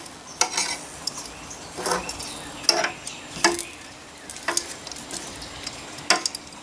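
Small sweet potatoes fry until crispy in a pan, a soft steady sizzle broken by sharp metallic clicks and scrapes as tongs turn the pieces, heard close with no voices.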